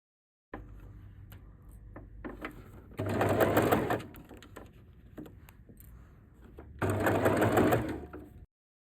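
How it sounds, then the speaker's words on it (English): Sewing machine stitching the pinned area of a fabric sling bag, running in two louder, denser bursts between quieter stretches of mechanical clicking and handling noise, close and alone. "sew the pinned area and finish it with bias binding"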